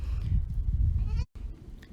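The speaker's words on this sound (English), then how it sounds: "As you can see, we got goats behind us. Everybody's making noise." Goats bleat behind a man working on a 2004 Suburban with its hood up, several loud wavering calls overlapping close by against a noisy outdoor farmyard background, with no talking.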